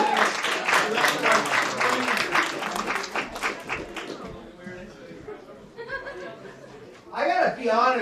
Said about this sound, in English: give Mr. Yoni a round of applause for helping